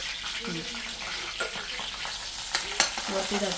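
Garlic paste sautés in a pan at close range, with a continuous sizzle broken by a few stirring scrapes and clatters. Faint background voices are heard.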